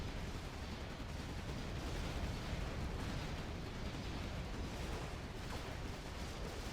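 Dense barrage of rocket explosions from a Command & Conquer: Generals Zero Hour battle, a steady roar of overlapping blasts and bursts with no let-up for several seconds and no voices.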